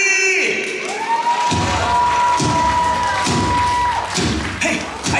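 A live stage show at Universal Studios Beijing draws crowd cheering and shouts over steady rhythmic thumping beats and a long sustained tone, loud and continuous throughout.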